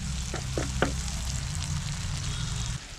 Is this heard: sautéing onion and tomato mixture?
yes